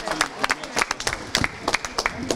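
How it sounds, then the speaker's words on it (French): Audience clapping at an outdoor patronal festival, sparse and uneven claps in close succession mixed with crowd murmur, short and fairly near. "nous avons un bel applaudissement"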